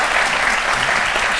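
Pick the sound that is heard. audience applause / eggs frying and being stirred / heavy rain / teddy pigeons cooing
audience applause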